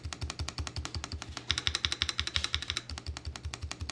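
Rapid, even keystrokes on a Redragon ELF K649 keyboard, a steady stream of soft yet firm clicks close to the mic, with no voices.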